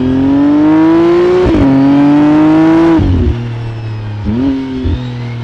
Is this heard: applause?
no